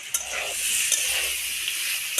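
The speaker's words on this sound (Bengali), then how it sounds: "এরকম করে সারুটা ভাজা হবে" Taro is stir-fried in mustard oil in a pan, a close, steady sizzle broken by a few sharp scrapes and taps of the utensil against the pan, with no one talking.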